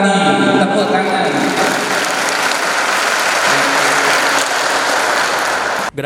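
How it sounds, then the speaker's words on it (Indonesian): Loud, sustained applause from a crowd at a regional Ma'arif NU Scout troop camp in East Java, steady clapping filling the whole stretch before cutting off abruptly at the end. "Tepuk tangan."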